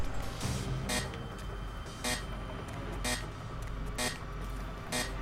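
A warning beep in Saw II: Flesh and Blood sounds at a steady interval of about once per second, sharp and clearly audible over a low game background rumble.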